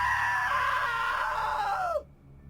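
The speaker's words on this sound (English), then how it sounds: "Now that was a great scream." A long, high, wavering scream from a character in the video game What Remains of Edith Finch slides downward and then cuts off abruptly, loud and alone over a faint low hum.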